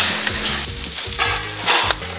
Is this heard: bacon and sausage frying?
yes